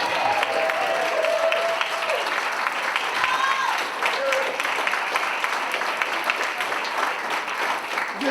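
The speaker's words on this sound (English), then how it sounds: "I want us to really give him a great applause" An audience applauds Reverend Kevin McCall at a National Action Network event, a dense, sustained wash of clapping that holds steady for the whole stretch, with whoops and cheers rising above it.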